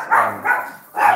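Dogs barking indoors in a home, three loud, close woofs spaced in an uneven rhythm, heard alone without talking.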